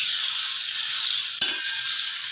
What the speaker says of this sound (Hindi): 3-4 मिनट तक हम भूनेंगे और जिससे इसका कलर जो है बिल्कुल वाइट हो जाएगा।